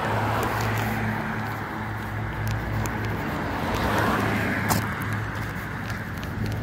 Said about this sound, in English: There's a lot of traffic here. Don't mind the noise.